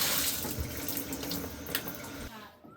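Hot water gushes steadily from a tap fed by an off-grid tankless water heater, a loud continuous rushing that cuts off near the end.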